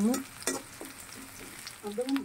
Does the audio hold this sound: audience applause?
no